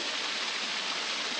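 Water pours steadily down Buttermilk Falls in a dense, constant broadband rush that sounds close and even, with no talking over it.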